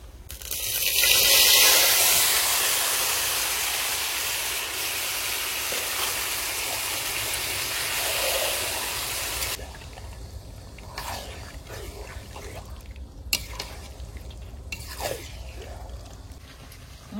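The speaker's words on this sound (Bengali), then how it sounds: "এবার মাংস দিয়ে দেবো।" Meat goes into hot oil spiced with bay leaf, cinnamon, cardamom, cloves and cumin, starting with a loud sizzling hiss that gradually subsides, then gives way to quieter scraping and stirring.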